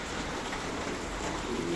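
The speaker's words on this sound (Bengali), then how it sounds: "দেখো কি বৃষ্টি হচ্ছে" Heavy rain pouring down steadily outdoors, a dense even hiss that holds unbroken and fairly loud from start to finish, with no voices.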